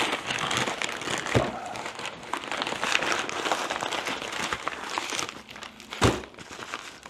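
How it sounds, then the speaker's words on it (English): A paper bag package is cut open with a carpet knife: close, continuous crinkling and rustling of paper with tearing bursts, and a sharper crackle near the end. "Just got a carpet knife. Just going to cut that open."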